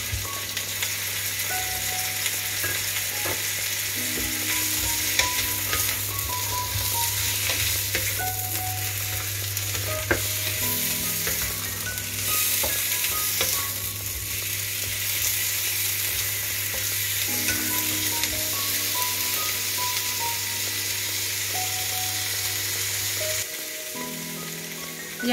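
Onion and tomato sautéing in a pan for pork sinigang, a steady close sizzle of frying that runs continuously with a low hum beneath and occasional stirring clinks.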